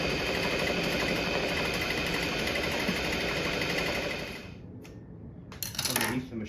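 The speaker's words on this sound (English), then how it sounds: "And the bobbin will just wind itself like that." A Juki sewing machine winds its bobbin with a steady, close mechanical whir and hum that fades after a few seconds, followed by a few clicks and knocks.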